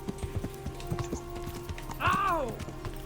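Horse hooves clip-clop in a steady rhythm in Kingdom Come: Deliverance, the medieval video game, with a horse whinny rising near the end and background game noise underneath.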